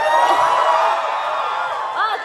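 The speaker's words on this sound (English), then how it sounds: "you're gonna continue to cheer for us like you are doing right now" A concert crowd at the Town Hall in New York cheers and whoops for a K-pop group, a dense, steady roar of shouting fans with high screams rising near the end.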